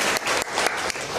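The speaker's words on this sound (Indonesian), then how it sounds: "kita boleh tepuk tangan dulu" A live audience at an Indonesian religious study gathering claps briskly for just over a second, a dense close burst of applause with slight dips in loudness.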